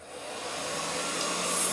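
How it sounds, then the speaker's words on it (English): A hair dryer blows with a steady, breathy whir that slowly builds in loudness over the short span, close by, with no speech. "I think I want to use my hair dryer so it won't dry it so fast"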